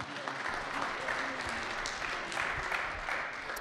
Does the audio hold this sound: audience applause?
yes